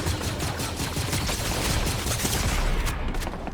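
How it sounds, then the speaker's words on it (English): Dense, continuous burst of gunfire in Fortnite, a shotgun among the shots, packed with overlapping blasts that stay loud and steady before easing slightly at the end. "This player is about to get shotgunned."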